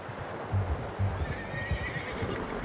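A horse in a video game whinnies in a couple of short bursts, with soft hoof clops and a low ambient hum underneath, fairly quiet and without speech.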